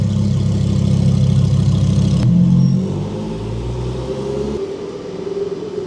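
A car engine at the Magarigawa circuit hums loudly and steadily at idle, then drops to a lower, softer rumble as the car shifts into drive, with no one talking nearby.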